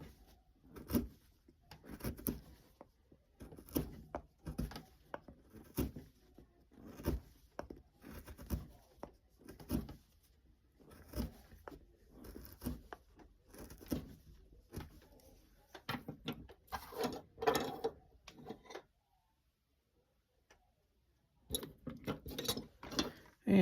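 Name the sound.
V gouge carving basswood pumpkin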